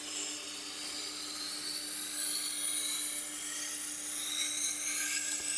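A knife being ground on a sharpener to set a new bevel on the fine setting gives a steady, continuous high scraping hiss that swells slightly and holds for several seconds, close and alone.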